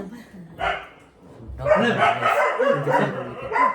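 A dog barks in short bursts, one early bark and then a longer stretch of barking, mixed in with people talking nearby.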